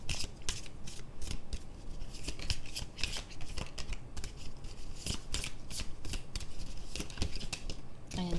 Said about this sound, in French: Il y a une carte, deux cartes qui sont retournées et une carte qui est tombée.